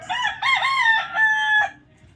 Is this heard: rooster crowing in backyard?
yes